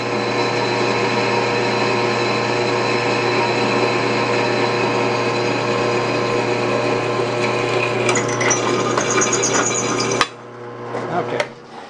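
An old beater drill fitted with a split point bit bores a pilot hole in metal during Datsun 521 ball joint work, a loud, steady motor whine that runs continuously for about ten seconds before stopping abruptly, followed by faint clatter.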